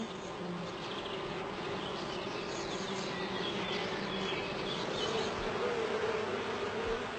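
Honeybees buzzing around their hive, a continuous dense hum from many insects close by, steady and unbroken, with no talk over it.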